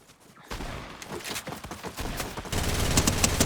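Bursts of rapid video game gunfire in Fortnite Zero Build crackle and pop, growing louder and denser toward the end, with no speech.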